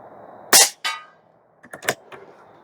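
A single sharp shot from an Airmaks Krait L Pro air rifle firing AEA pellets, followed by a quick second crack. A few lighter mechanical clicks come a moment later, all close and loud outdoors.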